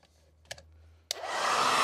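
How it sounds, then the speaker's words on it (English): A couple of faint clicks, then a hair dryer switches on with a sharp start and blows in a loud, steady whoosh, warming chrome wing louvres on a Jaguar XJ X358 XJ8. "Back out with a trusty hairdryer."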